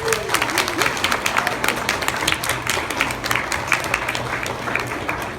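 Steady applause from the audience at a Beta Club induction ceremony, dense clapping that carries on through the whole stretch with a faint voice underneath.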